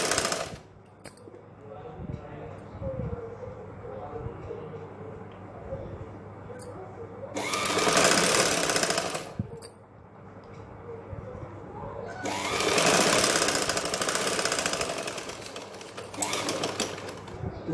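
A sewing machine stitches neck piping with macramé cord, whirring in two loud, rapid runs of several seconds each, with quieter gaps where a person talks between them.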